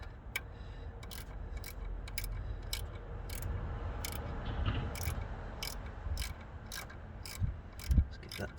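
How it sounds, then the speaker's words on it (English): Ratchet wrench tightening a bolt during an Abarth 595 Forge actuator install, a regular series of crisp close clicks over a low mechanical hum, with a few heavier knocks near the end. "Finally I can get my wrench in"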